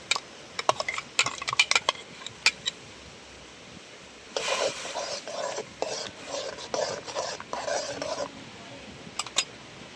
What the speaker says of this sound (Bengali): এবার আমি সর্ষে বাটাটা দিয়ে দিচ্ছি।